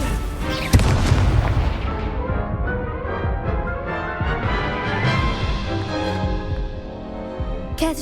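A blasting-spell explosion from the Hogwarts Legacy video game gives one sharp, loud boom, followed by a rumbling, crackling decay that fades over several seconds.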